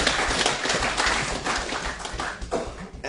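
An audience at a book launch event in Wellington breaks into steady applause, a dense, continuous patter of many hands clapping close by for a few seconds, with no talk over it.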